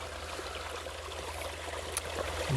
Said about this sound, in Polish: łatwo naczerpać nawet z takiego strumyczku, jak tu płynie